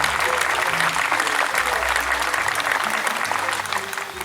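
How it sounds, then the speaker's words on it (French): An outdoor garden audience claps for a singer after her performance, a sustained crowd applause with some faint voices and musical tones mixed underneath. "Oui, vous pouvez l'applaudir."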